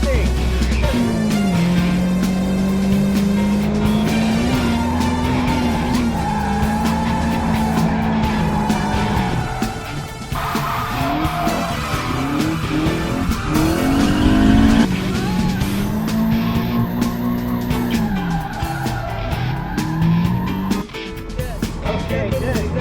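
Drifting car tires screech and skid at an AE86 drift event, with a loud revving engine and sustained squeals that rise and fall over about twenty seconds.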